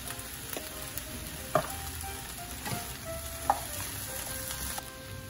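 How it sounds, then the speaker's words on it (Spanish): Vegetables stirred and frying in a pan with a soft, steady sizzle throughout, broken by a few sharp clacks of a utensil against the pan; no talking. "Y continuamos meneándolos para que no se vayan a quemar"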